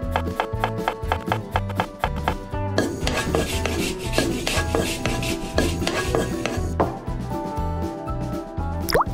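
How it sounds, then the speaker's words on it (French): Cheese rubbed steadily against a grater gives a dense, continuous scraping rasp with rhythmic strokes, close and fairly loud, over faint kitchen background. "Râpe du fromage"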